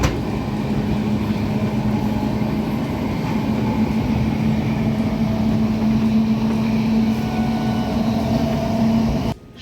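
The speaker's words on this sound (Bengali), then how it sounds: "এখানে কিন্তু একটা এক্সপ্রেস গাড়ি বেরিয়ে যাচ্ছে" An express train pulls out of Santragachi station, a steady loud rumble of moving carriages with a sustained low hum running throughout before cutting off abruptly near the end.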